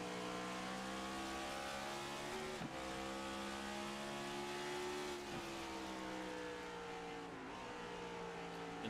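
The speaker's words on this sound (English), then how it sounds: "riding on board with Johnny Barker, some shifting definitely going on in these race cars" Race car engines drone steadily in a racing video game at Richmond, a loud, continuous sustained engine tone with brief dips where gears shift, heard alone with no talking.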